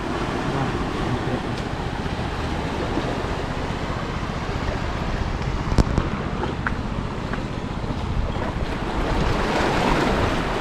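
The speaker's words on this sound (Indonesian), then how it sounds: "Ini pantai di daerah Lepung Aceh Besar." Surf on a beach at Lepung in Aceh Besar, a steady loud roar of breaking waves mixed with wind buffeting the microphone, continuous and close throughout, with no talk.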